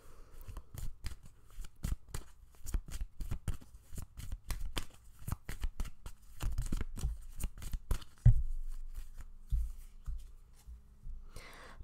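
Tarot cards are shuffled over and over, a dense run of quick papery riffles and slaps close by, ending in a few heavier taps as the deck settles, with no talking.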